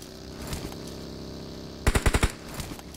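Gunfire from a shooting video game: a quick burst of about five sharp shots near the middle, with fainter scattered shots before and after, no talking.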